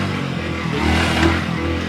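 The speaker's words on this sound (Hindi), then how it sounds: "स्टार्ट कर लेते हैं, इसका भी साउंड सुन लेते हैं" A Hero HF Deluxe Pro motorcycle runs close by with a low, steady engine note that lifts into a brief rev and drops back, with no talking.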